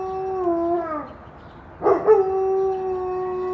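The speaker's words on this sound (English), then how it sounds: "you can hear the dog" A dog howls in long, wavering tones, pausing briefly, then starting again with a sharper rise before settling into a steady howl. Moderately close, no talking.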